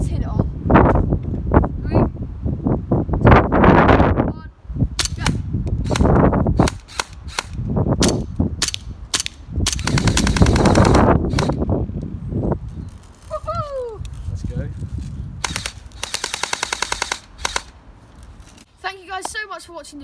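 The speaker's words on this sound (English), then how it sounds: "So we're just gonna fire them all out." Airsoft guns firing off spare ammo outdoors in sharp, loud snapping shots, single pops and rapid bursts spread through the clip, with wind buffeting the microphone and people talking between volleys.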